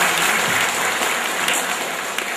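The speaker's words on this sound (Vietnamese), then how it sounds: "Cộng đoàn có một tràng pháo tay để chúc mừng các bạn." A congregation claps in steady, dense applause at a Catholic Mass in Paris, the sound continuous and fairly loud for the whole stretch with no talking over it.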